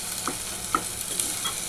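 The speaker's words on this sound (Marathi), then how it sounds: "थोडंसं मसाला परतून घ्यायचं तेलामध्ये." Masala fries in a little oil with a soft sizzle as a spoon stirs it, scraping out a few distinct strokes over a short stretch.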